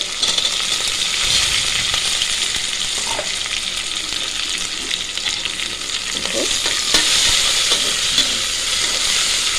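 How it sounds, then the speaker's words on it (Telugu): A large onion fries in a pan for coconut rice and mutton kurma, giving a loud, continuous, hissing sizzle with faint stirring throughout and no talking. "ఈ ఉల్లిపాయ వేగనండి"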